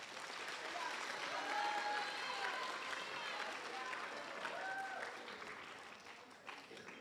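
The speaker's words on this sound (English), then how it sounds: "So give them a round of applause." Sustained audience applause fills a school seventh-grade awards ceremony, steady and fairly loud throughout, with a few whistles or cheers cutting through the dense clapping before it gradually thins out near the end.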